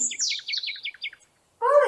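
A bird sings a rapid series of high, descending chirps, close and clear, followed after a short pause by a brief lower call.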